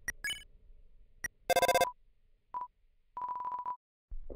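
A phone rings unanswered in the video game Undertale: a few electronic beeping tones and buzzing bursts separated by short gaps of silence, loud and close.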